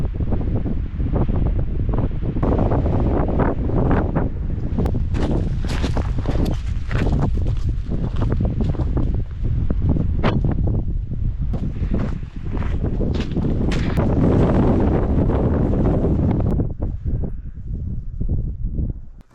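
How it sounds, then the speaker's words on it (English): Strong, steady wind buffets the microphone out in the Nevada desert, a loud roaring rush that swells and gusts for the whole stretch with no voices. "Catching a break from the wind in here"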